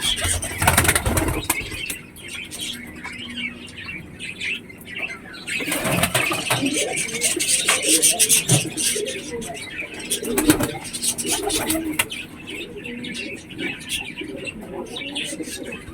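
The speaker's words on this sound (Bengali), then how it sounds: "এটা আমার বাড়ির পায়রা।" Domestic pigeons cooing close by, with bursts of wing flapping and a few chirps; a person speaks briefly partway through.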